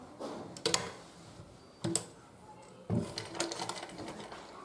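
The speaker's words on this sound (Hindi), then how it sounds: "अब हम इस पे पूरे पे सिलाई लगाएंगे" A sewing machine stitches all over a cloth floor mat made from old clothes, running in a few short bursts with pauses between them, fairly close and clear.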